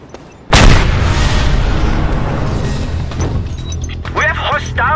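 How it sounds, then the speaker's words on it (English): A grenade explosion in Just Cause 2 lands as a sudden loud boom after a brief quiet moment, then rumbles and fades away, with a voice speaking near the end. "that's trying to remember how you throw a grenade"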